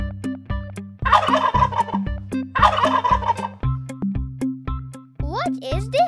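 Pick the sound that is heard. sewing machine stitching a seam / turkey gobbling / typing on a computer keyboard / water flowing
turkey gobbling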